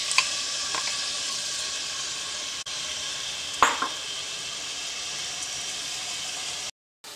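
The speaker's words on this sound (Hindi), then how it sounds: "इसके अंदर हम ये प्याज डाल देंगे।" Onions frying in a cup of hot oil in a pot, a steady loud close sizzle throughout with a couple of faint clinks.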